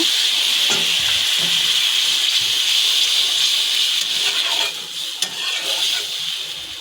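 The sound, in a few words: water poured into hot frying pan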